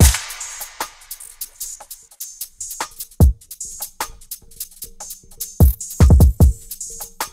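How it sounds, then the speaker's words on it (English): Melody in a sampled drill beat made in Cakewalk, run through a Glitch 2 gator effect, with choppy stuttering cuts and hard bass hits landing in irregular bursts alongside crisp percussion. "I think it's gonna be really cool if I have this little glitching like gator effect on the end of my melody"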